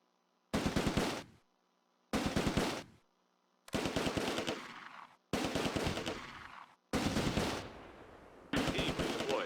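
Automatic weapon fire in the WWII strategy game Close Combat: A Bridge Too Far, street fighting in Veghel town, six loud rapid bursts of roughly a second each, separated by brief silences.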